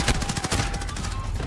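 Rapid, dense bursts of gunfire crackle through a Call of Duty match where a KAR98K rifle is in use, loud and close, with a steady roar of shots across the whole moment and no talk.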